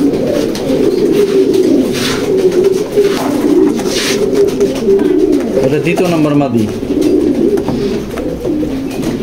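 Maxi pigeons in a loft coo loudly and continuously, their low rolling calls layered close together throughout. Someone speaks briefly over the calls.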